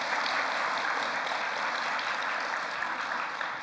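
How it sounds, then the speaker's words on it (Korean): An audience claps steadily in welcome for a professor at a church event, a dense, even wash of applause with no voices over it. "우리 오택령 교수님, 여러분 감사의 환영의 박수를 보내주시면 고맙겠습니다."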